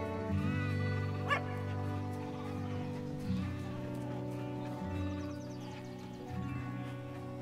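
Sheep bleating in a sheep-herding puzzle video game, a drawn-out wavering bleat over a sustained soft musical soundtrack with other calls mixed in.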